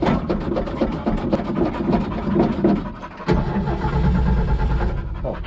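A 1965 Ford F250 service truck, parked for years and bought at a farm auction, cranks with a rapid rhythmic churning, then catches briefly and roars into a loud, rough idle close by.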